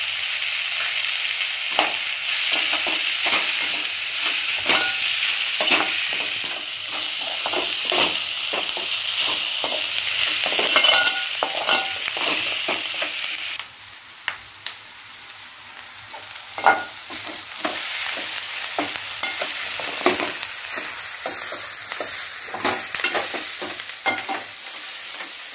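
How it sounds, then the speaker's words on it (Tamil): Garam masala and chilli powder fry with onion rice in a pan, a constant hiss of frying broken by repeated spoon scrapes and stirring knocks, close and steady throughout with no talking. "கரம் மசாலாவும் மிளகாய்த்தூளும் சேர்த்துடலாம்"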